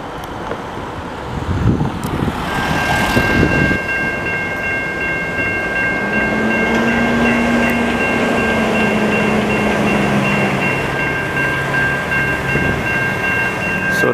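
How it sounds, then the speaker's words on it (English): A VIA Rail passenger train with locomotives on both ends passes in Montreal, a steady rolling rumble of wheels on track with a sustained horn-like tone in the middle, heard from trackside at moderate distance. "So it looks like Via figured out a way to save money by running 2 engines on both ends of a train."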